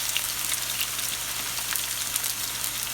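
Steak hisses and crackles steadily in a hot oiled pan, a close, constant broadband sizzle with tiny spattering pops throughout, no voices.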